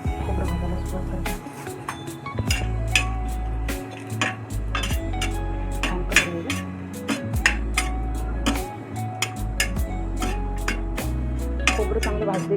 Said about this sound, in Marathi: खोबरं भाजायला सुरुवात करते.